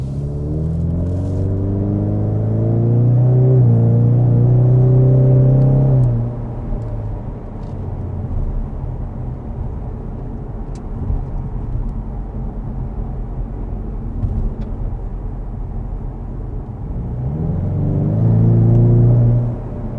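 A 2020 Ford Mustang EcoBoost 2.3L four-cylinder engine in Sport exhaust mode revs up loudly, drops to a deep rumbling idle, then revs again near the end; no talking.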